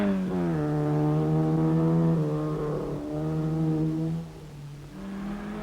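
A Triumph rally car's engine drones loud and close on a Dolomites mountain road, rising and shifting in pitch through gear changes before easing off, with no voices.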